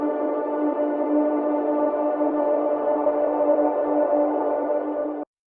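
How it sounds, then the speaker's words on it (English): A soloed synth pad from an Ableton Live track sustains as one steady, harmonically rich chord, holding evenly at moderate loudness for about five seconds before cutting off abruptly into silence. "I've just soloed one of the pads that I've got in this track."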